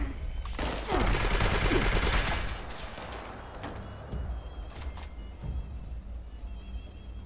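Gunfire crackles in Fallout 76, with a dense burst of rapid shots early on followed by scattered thinner pops and game sounds, moderately loud without any talk.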